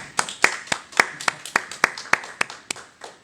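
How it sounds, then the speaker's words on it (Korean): A small group claps in a steady, evenly spaced rhythm after a lesson on the chapters of Acts at a church Bible study, each sharp hand clap distinct and fairly close, with no talking. "박수."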